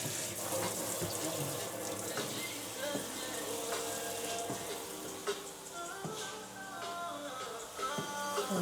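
Dishes being washed under a steadily running kitchen tap: continuous close water rush with occasional clinks of dishware, alone with no speech.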